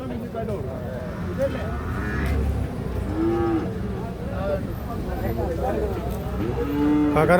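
Several buffalo moo repeatedly over a busy cattle market in Chattiparamba, Malappuram, low drawn-out calls mixed with people talking and general crowd noise.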